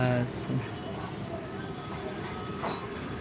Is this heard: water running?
no